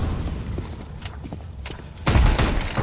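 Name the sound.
grenade thrown and exploding in a video game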